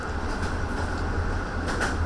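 Steady low rumble and hum of a Chinese high-speed sleeper train running, heard from inside the carriage, with a constant rolling drone and faint rhythmic knocks; no talking.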